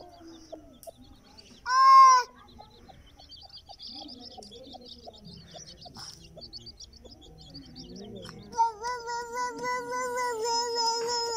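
Baby chicks cheep at home while a small child tries to catch them: one loud, sharp chirp early on, then a faint stretch, and finally a steady run of repeated, rising high peeps close by.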